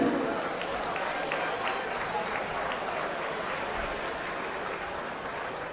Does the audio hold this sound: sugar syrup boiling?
no